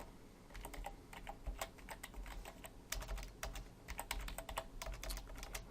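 Rapid typing on a computer keyboard while coding a Node.js user registration system, with dense clusters of clicking keystrokes in uneven bursts and brief pauses, close and steady with no talking.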